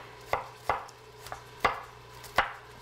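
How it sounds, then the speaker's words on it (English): Onions chopped with a sharp knife on a board, five crisp, close blows at an uneven, unhurried pace with no talking. "So right now we're just chopping our onions"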